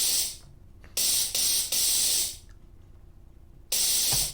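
Bursts of steam hiss used as a layer in a music track: several loud, bright spray blasts of uneven length, separated by short silences, with nobody talking.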